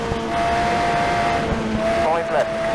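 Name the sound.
rally car sliding through a sharp turn with the handbrake, from the video game Rush Rally 3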